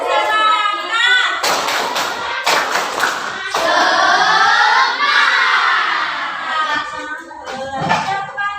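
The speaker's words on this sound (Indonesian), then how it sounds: "marilah kita tepuk semangat" Students and a teacher in a classroom doing a rhythmic Indonesian 'tepuk semangat' clapping chant, with bursts of claps and shouted chant lines and voices throughout, loud and close.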